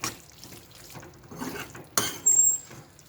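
Water splashes into a mixer grinder jar as it is rinsed out in a home kitchen after grinding a paste for palav, heard as brief sharp splashes and a short running-water burst amid quiet clatter.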